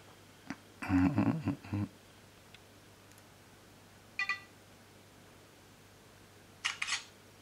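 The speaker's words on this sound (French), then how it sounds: "Alors là, une première photo avec flash et ensuite sans flash" A Zopo ZP998 smartphone camera takes photos with and without flash, giving a few short electronic shutter clicks and chirps spaced several seconds apart against a quiet background.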